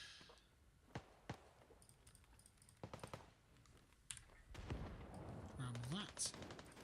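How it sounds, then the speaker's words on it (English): Scattered gunshots from a firefight in Escape from Tarkov, single sharp cracks spaced irregularly across the clip over low rumble, with a louder burst of activity and a rising tone near the end. "Loads of shooting going on."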